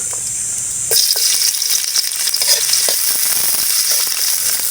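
Ginger hits a hot pan, and a loud sizzle flares up at once and holds steady, with a few clicks and scrapes from stirring.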